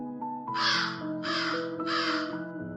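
Crow cawing in a children's story, three loud harsh caws in a steady rhythm, close and clear, over a soft sustained musical background.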